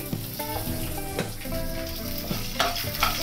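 Byadgi and green chillies fry in a pan, a steady close sizzle with stirring scrapes and clinks running throughout, no voices.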